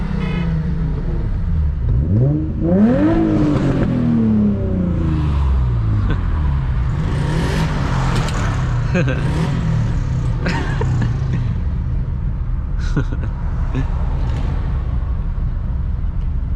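A car engine revs hard with rising, sweeping pitch, then idles in a rough rumble with scattered sharp exhaust pops and crackles, loud and close.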